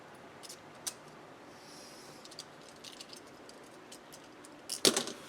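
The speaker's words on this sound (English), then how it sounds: "Make light strokes and until you reach the bottom of what you're trying to cut." A knife cuts a paper planner insert along a ruler, heard as faint, scattered scraping strokes close by that end with a short, sharper rasp.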